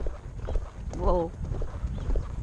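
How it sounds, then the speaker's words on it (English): A horse canters along, hooves thudding in a soft rhythmic beat close by, with a voice speaking over it and body movement from the rider. "We went into a nice canter there."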